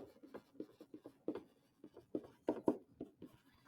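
Someone writes on a board during a geometry lesson, quiet scratchy strokes coming in quick irregular bursts, close and faint, with no talk.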